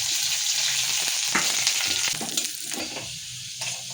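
Onion sizzles in hot oil in a pan after bay leaf and tempering spices, a loud continuous frying hiss with scattered stirring scrapes and crackles, no voices.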